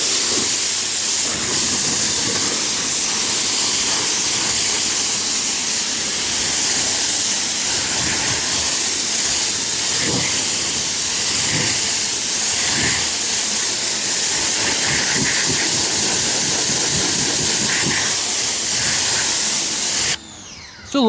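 A car being rinsed with water, a loud continuous hiss of spray close up that runs steadily throughout, with faint splashing on the body panels and a brief drop at the very end.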